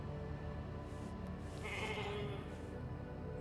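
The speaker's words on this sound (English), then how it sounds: "Never thought I'd be so glad to see a sheep." Sheep bleating inside the video game Alters, a moderately loud, drawn-out bleat set against a dense, steady game soundscape with no talking.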